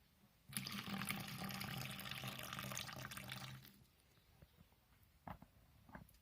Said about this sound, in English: So let's fill up the water dish.